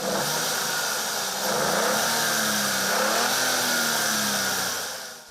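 A Hyundai i20's turbocharged 1-litre three-cylinder engine runs continuously and builds revs in a smooth, steady drone, heard close and alone with no voices over it.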